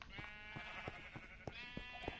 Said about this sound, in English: So I got a ton of sheep here.